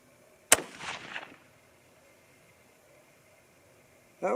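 One sharp, loud 25-06 Remington rifle shot firing a 100-grain bullet, close by, its report rolling briefly away into quiet before a short burst of another sound at the very end.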